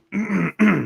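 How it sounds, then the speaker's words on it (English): Two quick, close throat-clearing coughs, a short rough burst followed immediately by a second, with no speech around them. "Got that cough out of the way."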